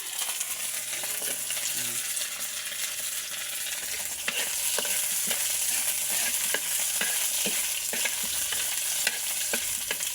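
Chopped ginger frying with onion in a pan for rice porridge, a steady close sizzle with scattered light clicks and taps of a utensil stirring throughout.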